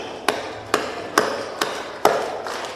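Five sharp hand claps with a little pop, spaced roughly half a second apart, close and fairly loud against a quiet room, with no talking.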